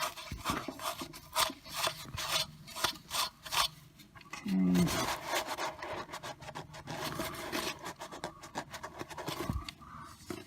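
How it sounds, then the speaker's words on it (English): Steel wool rasps and scrubs dirt off a part during a BMW E46 M3 SMG transmission overhaul, giving a run of close, rhythmic scraping strokes with brief pauses and a short spoken word midway. "Got a little steel wool here. Take all the dirt off here."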